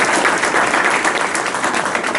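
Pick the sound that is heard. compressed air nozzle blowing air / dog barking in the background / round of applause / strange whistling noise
round of applause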